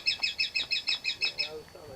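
A run of evenly spaced, bright recorded bird chirps from a speaker at a missile display at Point Mugu, about eight in quick succession, then stopping as faint background sound remains.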